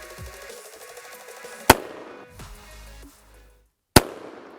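A lever-action Axe shotgun fires two sharp, loud blasts about two seconds apart. Each blast is followed by a clattering, metallic mechanical action. No talking is heard.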